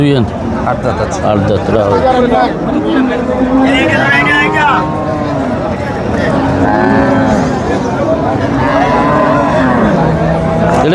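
A cow moos repeatedly at a busy rural cattle market, its long drawn calls rising over constant nearby chatter and bargaining voices of a crowd.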